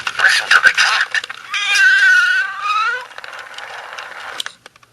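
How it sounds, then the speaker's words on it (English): Cat meow played from the record inside a 1980s See 'n Say toy: a scratchy, warbling voice recording heard close up, rising and falling over a few seconds, with mechanical record noise around it. "Listen to the cat."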